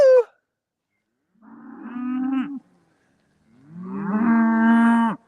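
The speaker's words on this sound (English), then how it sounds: "Cows can be the most frustrating critters" Cattle on a livestock farm pasture let out two loud, drawn-out moos, the second longer and fuller, after a brief call at the start, with quiet gaps between them.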